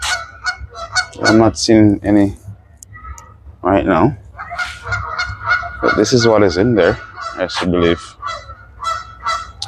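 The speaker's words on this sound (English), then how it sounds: "That's the Canadian geese in the background." Canada geese honk repeatedly at a zoo in Edmonton, Alberta, loud and close, with calls in bursts between and under a person talking.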